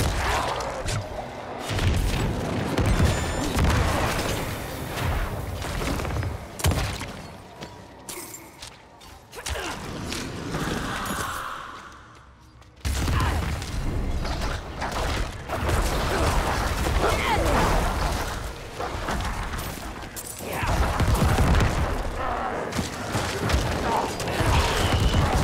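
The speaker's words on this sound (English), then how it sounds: "Explosions here." Explosions and booming crashes from the action game Diablo 4, with whooshing swings and impacts in dense, loud bursts, a brief near-silent dip about halfway, then continuous combat noise again with voice occasionally over it.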